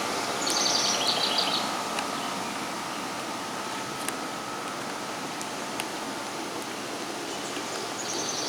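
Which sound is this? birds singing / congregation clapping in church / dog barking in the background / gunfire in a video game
birds singing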